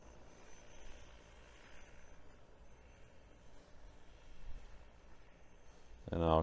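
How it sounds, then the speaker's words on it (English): A DJI Agras T30 agricultural spreader drone flies overhead with a steady, faint buzzing hum that swells slightly midway, ending with a brief louder burst close by. "There you see the drone's going to slow down."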